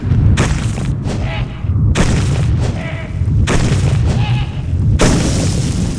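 Heavy booming explosions in Clive Barker's Undying go off four times at roughly one-to-two-second intervals, each a loud, broad blast with a short ringing tail.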